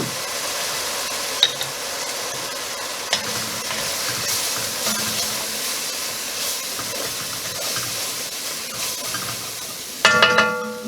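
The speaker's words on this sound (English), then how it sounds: "we're going to deglaze with that Beaujolais" A pan sizzling steadily as Beaujolais wine deglazes it for a smoked, wine-braised beef shoulder, with a continuous hiss, a few stirring clicks, and a louder sputtering flare near the end.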